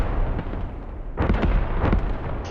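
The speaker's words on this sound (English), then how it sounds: "So they could tell it was a creeping barrage" Creeping artillery barrage in the video game Squad, a dense continuous rumble of shell impacts with two heavier clusters of blasts, loud and steady throughout.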